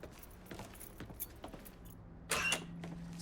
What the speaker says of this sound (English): Keys in the other room. Grab them so we can get the hell out of here.